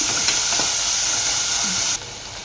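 Shallots sautéing in a pan for a sardine dish, a steady close hiss and sizzle that drops in level near the end.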